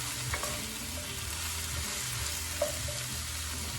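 Ingredients for a curry tossed and frying in a pan, a steady close sizzle with soft stirring and a faint scrape or two, even and continuous throughout, no talk.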